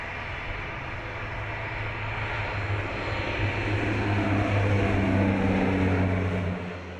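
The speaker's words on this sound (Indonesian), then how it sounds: "Yang baru kita uji coba tadi adalah pesawat CN235 versi Maritim Patrol Aircraft untuk customer TNI Angkatan Udara." A CN235 Maritime Patrol Aircraft passes on a test flight, its turboprop engines droning loudly and steadily, swelling slightly toward the end before fading.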